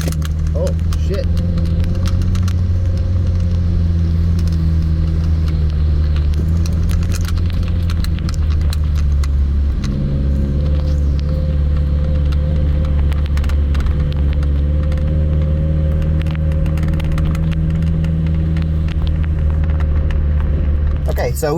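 A Subaru WRX rally car drives hard over a bumpy RallyX track, its engine droning loud and steady throughout with a shift in pitch midway. Speech runs over the engine noise.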